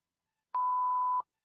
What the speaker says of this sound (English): Oh, the beeping noise.